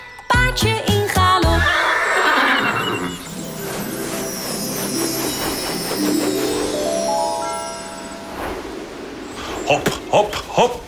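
A horse whinny rises over a bouncy Dutch children's song about a galloping pony, with sung voices and music throughout and short percussive hits at the start and end.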